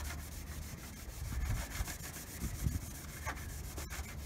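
Car paint rubbed by hand with a terry cloth towel, a soft, close scrubbing with irregular back-and-forth strokes, fairly quiet with no talk.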